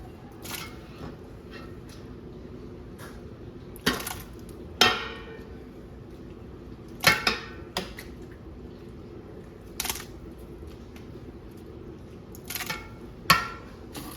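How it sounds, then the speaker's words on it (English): Salsa is ladled out of a pot in a farm kitchen: scattered soft clinks and knocks of the ladle against the pot over quiet background, with a few sharper taps spaced irregularly. "I'm gonna ladle a bunch of this off."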